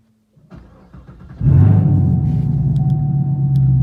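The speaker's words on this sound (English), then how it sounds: "we're going to start the car" A Camaro SS engine cranks briefly, then catches and settles into a steady, loud idle rumble close by.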